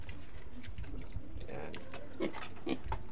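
Native pigs, stressed, grunt and snort repeatedly in a noisy pen, low rough sounds mixed with constant background clatter and murmur.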